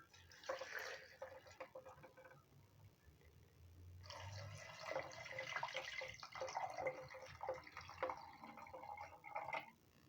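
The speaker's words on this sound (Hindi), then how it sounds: "इसमें पानी शामिल कर देते हैं।" Water poured into a pomegranate juice mixture, with a faint splash at the start, then a longer steady trickling pour that is quiet and close.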